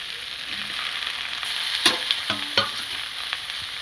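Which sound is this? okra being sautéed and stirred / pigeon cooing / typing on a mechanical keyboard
okra being sautéed and stirred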